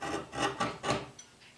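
Walter Sorrells-style sen scraping steel in a draw-knife motion while shaping a Japanese sword, three quick rasping strokes close up followed by a fainter fourth.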